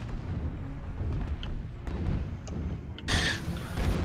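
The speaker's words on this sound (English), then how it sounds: "Put an airstrike on Alpha if I can" Airstrike blasts in MechWarrior Online land amid combat: a series of muffled booms and crackles, with a sharper, brighter burst near the end, all under a steady low battlefield rumble.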